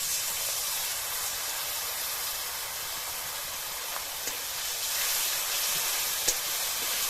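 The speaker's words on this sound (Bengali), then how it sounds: "এবার মশলাটাকে ভালো করে কষিয়ে নেব" Ground spice paste of ginger, cumin, coriander and dried chilli fries in hot oil for catla fish biryani in a village kitchen, a loud continuous hissing sizzle with a few faint clicks.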